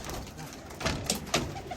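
Pigeons leave their loft with soft, low coos, a few murmured calls in quick succession against a quiet outdoor background.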